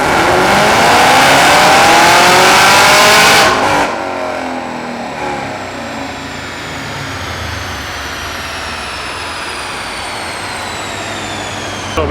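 A Camaro on a dyno roars at high revs, loud and close, then the throttle lifts and the engine winds down into a long falling whine with a lower rumble underneath.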